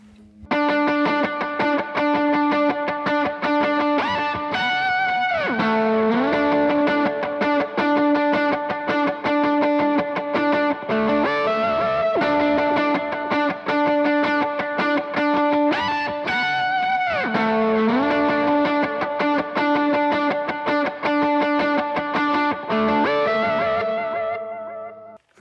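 Electric guitar playing a sustained chorus part through a drive tone with chorus, reverb and delay effects, held chords ringing loud and continuous with pitch swoops, alone without voices.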